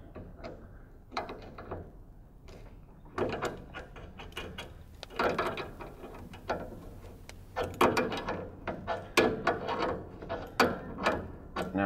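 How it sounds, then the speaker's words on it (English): A bonnet nut being loosened on a Rawhide RT-30, heard as a series of close metallic ratcheting clicks and scraping turns in irregular bursts, with no talking. "You loosen up this bonnet nut"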